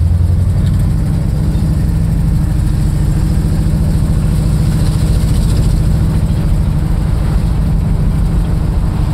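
A 1963 Chevrolet Impala SS engine drones while driving in second gear on a street, a loud, steady low rumble throughout with no talking.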